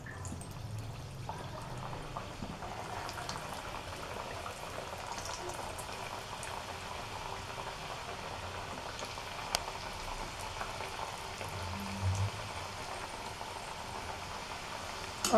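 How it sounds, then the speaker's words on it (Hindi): Gujiya sweets slowly deep-frying in hot ghee on a low flame, a faint, even bubbling hiss that carries on steadily, with an occasional soft knock. "अब इसमें हम धीरे धीरे गुजिया डालेंगे।"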